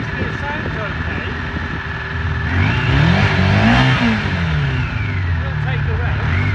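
Engine of a 1987 Honda CBR400R Hurricane NC23 motorcycle with a running fault, idling roughly then revving up and back down, with a voice speaking alongside it.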